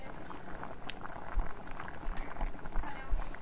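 Sabu khichuri, a sago and lentil porridge, bubbles and boils steadily in a cooking pot, with soft popping and churning close up and some talk over it.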